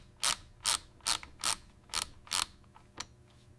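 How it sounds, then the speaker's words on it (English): Torque screws being tightened on the side rails of an FN SCAR-L rifle in a factory, giving about seven sharp ratcheting clicks spaced roughly half a second apart, close and clear with no talk. "Tightening the torque screws to secure the side rails."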